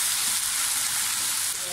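Tempeh and tofu sizzle in a pan with soy sauce while being stirred, a bright continuous hiss of frying close by, alone without talk.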